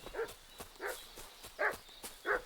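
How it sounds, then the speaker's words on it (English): Dog in Kingdom Come Deliverance II giving four evenly spaced, moderately distant barks over quiet background clatter. "What's that dog making such a fuss about?"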